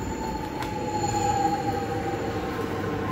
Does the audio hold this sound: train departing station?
yes